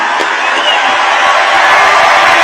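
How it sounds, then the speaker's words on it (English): Rally crowd at a large political event in Arizona cheering and shouting in a dense, continuous roar that stays loud throughout, with scattered whoops rising above the mass of voices. "The whole place, we're going to clap as you leave."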